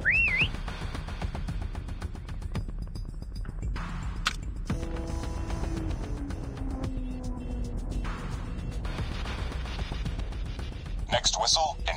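A shrill, rising prop whistle sounds in a Call of Duty Mobile Prop Hunt match, once at the start and again near the end, over steady game noise and speech.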